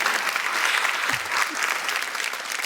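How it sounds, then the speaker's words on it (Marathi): Audience applause at a Marathi television variety show, a dense, steady burst of clapping from a studio crowd lasting the whole moment without pause. "जोरदार टाळ्या झाल्या पाहिजेत"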